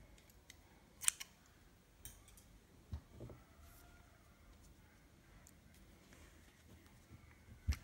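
Scissors snip yarn at the end of a crocheted mesh row: a few faint, short clicks spaced apart in a quiet room, the clearest near the start and the end.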